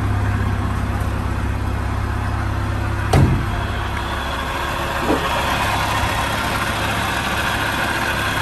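An ex-military Land Rover Series IIa 88-inch 2.25 petrol engine idles warm and steadily nearby with a low, even rumble, interrupted by a brief sharp knock partway through.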